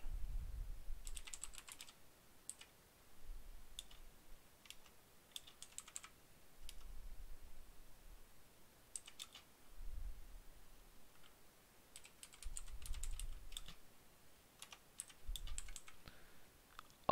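Quiet, intermittent clicks of typing on a computer keyboard, short bursts of keystrokes separated by pauses, with no one talking.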